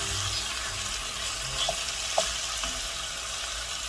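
A pound of ground beef browning in a pan for Greek moussaka, a steady close crackling sizzle throughout, with faint scrapes and taps from stirring.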